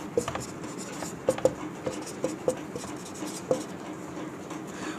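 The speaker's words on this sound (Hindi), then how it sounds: "तो यहाँ लिख देते हैं अपन प्रथम समीकरण" Chalk or a marker writing an equation on a board gives short, soft taps and strokes in irregular bursts, with a quiet voice speaking in the background.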